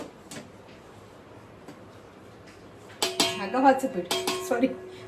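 Metal pots and pans clatter and clink loudly near the end as a kadhai is set down in a home kitchen during cooking, after a quiet stretch.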